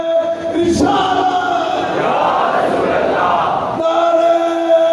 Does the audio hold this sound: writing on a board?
no